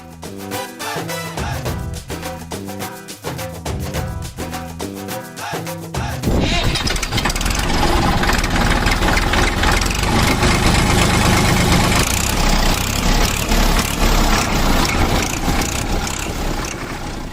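A loaded goods vehicle's engine cranks and catches partway through, after music, then settles into a loud, steady, rumbling idle that runs to the end.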